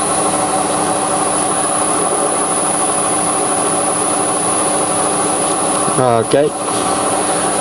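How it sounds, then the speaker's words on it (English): A small mini lathe running at about 770 RPM taking a light cut on aluminium bar, giving a steady, loud whirring motor hum with a constant high whine; near the end a person briefly speaks over it. "Let's just take a touch."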